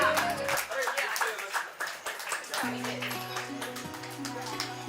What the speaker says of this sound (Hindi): जोरदार तालियां बजाइए एक बार फिर से